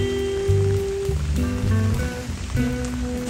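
Rain falls on the Pont des Arts in Paris, a steady outdoor hiss of drops beneath sustained tonal notes.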